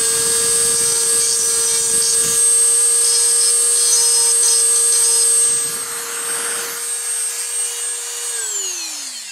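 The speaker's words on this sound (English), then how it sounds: "Using a Dremel with a cutting disc. Round off the corners." A Dremel rotary tool with a cutting disc grinds the corners of a PMAG magazine, a loud close high-pitched whine with rasping contact, then spinning down at the end.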